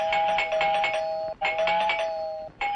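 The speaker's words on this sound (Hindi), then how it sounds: "ये घंटी कुछ लंबी नहीं बज रही?" A doorbell rings insistently in a home, its bright electronic tone sounding in long sustained bursts with brief gaps between them, loud and close, with no voices.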